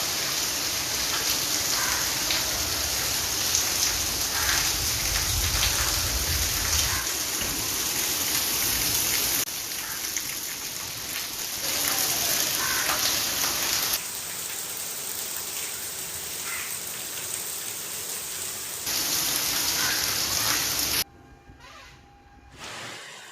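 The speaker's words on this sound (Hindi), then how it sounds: "काफ़ी बारिश हो रही है" Heavy monsoon-type rain pours down steadily over a village area in Champaran, a dense continuous hiss of falling water that shifts slightly in level and drops away near the end.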